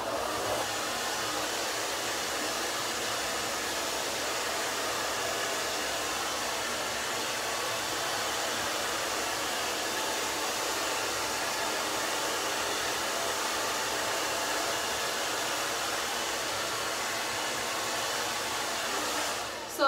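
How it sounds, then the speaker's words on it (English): A hair dryer on high heat blow-drying beaded weft hair extensions, a steady close whooshing roar that runs unbroken throughout with no talking. "So I use high heat just because that works better. And yeah, so I'm gonna blow dry it."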